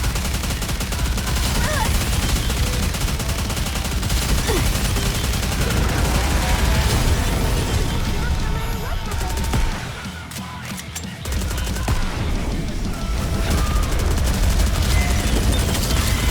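Rapid gunfire volley in the anime-style shooter NIKKE: Goddess of Victory, a dense continuous fusillade with booms running nearly throughout, briefly dipping midway, over game music and character voices.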